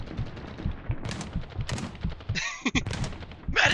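Gunfire in the shooter game BattleBit Remastered: a clatter of rapid shots and scattered bursts, fairly quiet, with a few sharper cracks near the end.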